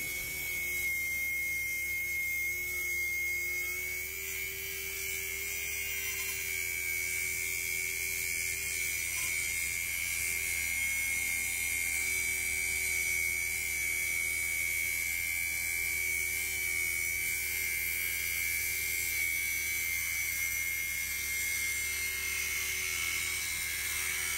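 A DCA ADMY125 cordless brushless circular saw running without load, holding a steady, high, whining motor tone with no cutting and no talk.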